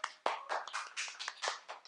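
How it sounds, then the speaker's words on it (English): A short round of applause from a small group at home, a handful of separate, uneven hand claps, sparse and fairly quiet, with no voices. "Let's give a round of applause."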